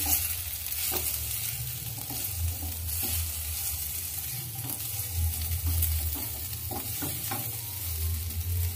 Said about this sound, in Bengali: হালকা করে দিয়ে ভেজে নিতে হবে।